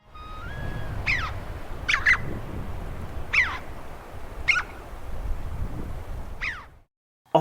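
A red-billed chough in Kumaon gives five short, sharp calls spaced about a second apart, ringing out over steady wind noise.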